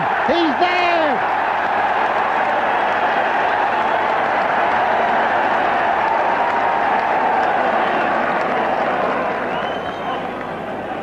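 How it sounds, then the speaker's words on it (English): A crowd at a Galway Gaelic games match cheers and applauds in a broad, continuous wash of noise, with a voice rising briefly over it at the start. "The crowd appealing for Iggy."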